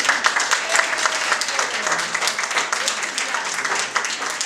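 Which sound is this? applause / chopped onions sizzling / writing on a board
applause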